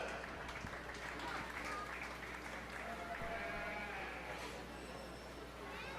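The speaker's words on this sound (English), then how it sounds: "Somebody like, go ahead and clap" Applause from a crowd at a 4-H fair sheep show ring, with sheep bleating through it and voices mixed in, steady and fairly distant over six seconds.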